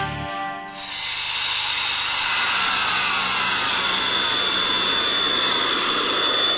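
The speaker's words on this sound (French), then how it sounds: "Un avion de chasse qui traverse une route nationale." A fighter jet roars in after a brief quiet moment, building to a loud, sustained hissing rush with a high whine.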